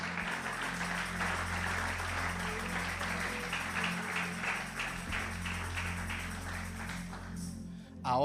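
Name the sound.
congregation applauding in church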